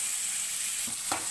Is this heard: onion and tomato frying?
yes